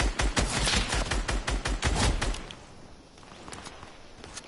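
Gunfire in a video game: a rapid burst of loud, evenly spaced shots for about two and a half seconds, then the firing stops and only quieter game background remains.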